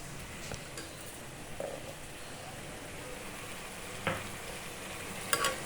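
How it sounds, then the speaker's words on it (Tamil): Chopped onions sautéing in a pan with a steady soft sizzle, near and moderately quiet, broken by a few brief clicks of a spoon stirring against the pan. "வெங்காயம் வதக்கிட்டு இருக்கோம்"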